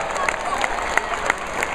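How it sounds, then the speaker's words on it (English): Crowd applause for the Virginia Cavaliers baseball team at the 2011 Men's College World Series in Omaha, a steady wash of clapping with a few sharper claps standing out, fairly distant and continuous. "How about a big round of applause for the Cavaliers?"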